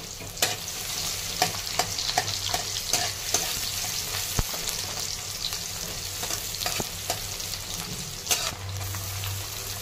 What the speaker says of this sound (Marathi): मोहरी छान तळतळली का जिरे टाकायचं आहे